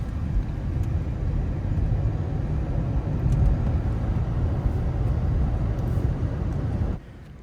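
A BYD Han EV dual-motor four-wheel-drive electric car accelerates hard, giving a steady loud low rumble of road and cabin noise that holds for about seven seconds, then drops off abruptly.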